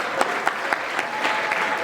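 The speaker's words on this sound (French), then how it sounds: "Applaudissez encore une fois pour les jeunes couples." A wedding crowd claps steadily in warm, dense applause for the newlyweds, with a few sharper individual claps standing out in a quick rhythm, close and loud throughout.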